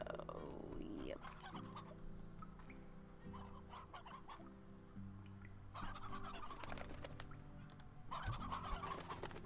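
Video game chickens, a rooster and several hens, clucking repeatedly over a steady musical background, with a brief spoken word from a player.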